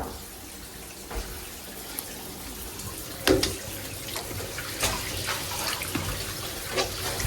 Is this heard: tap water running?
yes